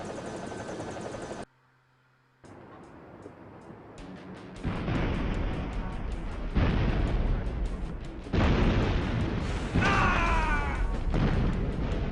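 Explosions and gunfire in the Duke Nukem: Zero Hour video game: after a short silent gap, loud rumbling blasts and bursts repeat in heavy waves, with a whining, rising tone near the end.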